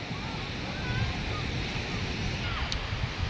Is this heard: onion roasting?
no